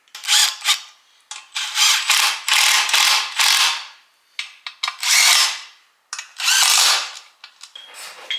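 A ratchet cranks bolts on the cross member of a Ford Escort Mk2 rally car under restoration, loud close bursts of rapid clicking that repeat with short pauses between strokes.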